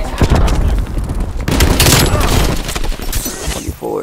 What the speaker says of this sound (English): I got a war machine.